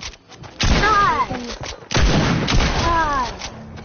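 Rapid SMG fire in a video game shooter rings out in two dense, loud bursts of overlapping shots, with a player shouting and talking over the gunfire.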